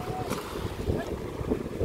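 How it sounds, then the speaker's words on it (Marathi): Loud rushing sea waves and wind buffet a boat, a steady wash of surf with gusty microphone rumble throughout. "किती मोठ्या लाटा येतात ते बापरे."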